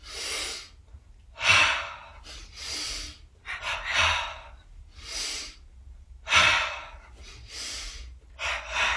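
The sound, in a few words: double inhale and double exhale yoga breathing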